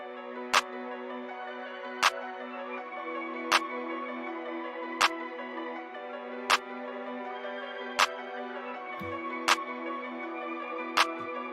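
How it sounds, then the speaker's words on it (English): Crisp, punchy drum-machine claps from an FL Studio dark orchestral trap beat strike at a steady, evenly spaced rhythm, one roughly every second and a half, over a sustained, brooding orchestral backing. "first thing I got was this clap"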